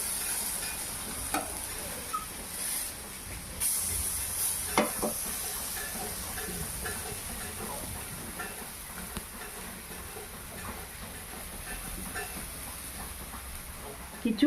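Khosla bhaja pieces fry in hot oil, a continuous close sizzle and hiss with scattered small pops and occasional clicks of a utensil throughout.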